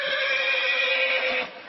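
A horse neighs loudly and close on a street shared with a 1952 Dodge and bicycle taxis in Cuba, one long sustained whinny that fades at the end, with faint hoof clatter beneath.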